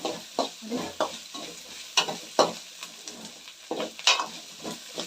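Onions being fried until reddish for a moong bean khichdi, with repeated sharp scraping stir strokes against the pan over a light, steady sizzle, close and clear.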